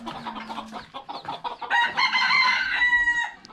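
Bantam chickens cluck in quick choppy bursts, then a rooster lets out a loud, close crow that holds for over a second before fading.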